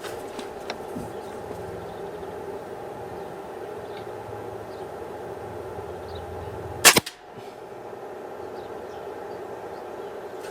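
An air rifle fires a JSB diabolo 4.5mm pellet at a 30-metre target, one sharp crack standing out clearly above a steady background hum, followed by a brief quiet.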